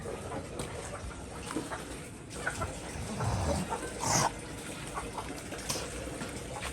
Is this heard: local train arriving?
no